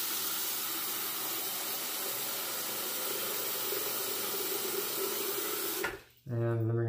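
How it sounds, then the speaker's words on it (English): Water runs steadily from a tap into a sink for wetting a silvertip badger shaving brush, a continuous close hiss that stops abruptly near the end, followed by a brief lower gurgling tone. "Let me pour just a little bit of water"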